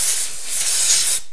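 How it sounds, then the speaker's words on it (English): Air blasts water off a metal block just lifted from a water bath, part of a homemade solid-state thermoelectric refrigerator build, giving a steady, close, breathy hiss that lasts just over a second. "blow out some of this"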